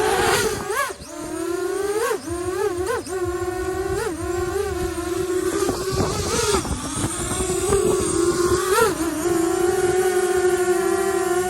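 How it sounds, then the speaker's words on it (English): A DJI FPV drone fitted with MasterAirscrew 5-inch ball-nose propellers flies close by with a loud, continuous high whine whose pitch repeatedly swoops up and down as the throttle changes. "propeller that I'm using right now and testing it is the MasterAirscrew."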